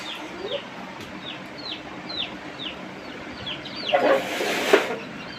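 Repeated high, thin peeping chirps from young chicks, steady throughout, with a louder rustling burst near the end.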